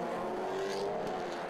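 A Seat TCR touring race car accelerates off the line at a race start at TT Circuit Assen, its engine a faint, distant rising whine blended with the surrounding field of cars.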